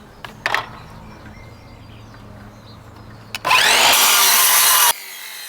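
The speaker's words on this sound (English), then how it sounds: "I've now got some 22 by 100 timber that I'm going to cut down" A power saw cuts 22 by 100 timber for a garden room roof, starting after light knocks and handling noise, then holding a loud, harsh, steady cut for about a second and a half before stopping abruptly.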